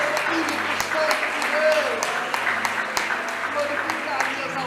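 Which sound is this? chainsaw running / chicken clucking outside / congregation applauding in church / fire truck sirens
congregation applauding in church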